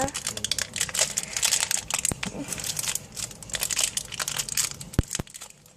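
A Minecraft toy blind-pack plastic wrapper is torn open, giving loud, close crinkling and crackling with a few sharp snaps, while a voice talks at times.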